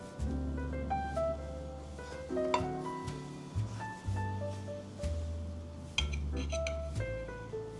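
A serving plate is picked up and handled in a home kitchen while a zucchini and egg yolk dish cooks, giving light ceramic clinks and taps over a steady sizzle with background music.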